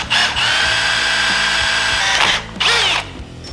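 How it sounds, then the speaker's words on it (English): Power drill boring through quarter-inch-thick steel for a go-kart build, a loud close whine that runs steadily, briefly stops and restarts twice with short bursts, with no talk. "I'm gonna start off with a small bit and then work my way up to a big bit, because this is about 1/4 inch thick of steel."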